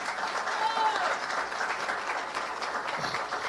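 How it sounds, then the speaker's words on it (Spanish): Audience at a social forum on the crisis of capitalism bursting into sustained applause, dense clapping filling the whole stretch with crowd murmur mixed in. "Un aplauso para Xiomara."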